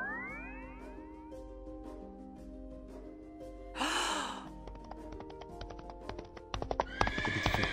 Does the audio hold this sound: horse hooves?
yes